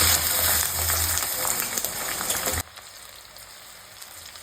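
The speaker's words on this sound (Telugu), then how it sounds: "ఆయిల్ వేడైపోయింది. ఆనియన్స్ వేసుకుందాం." Onions dropped into hot oil for a curry give a loud, close, crackling sizzle that suddenly falls to a much quieter, steady hiss partway through.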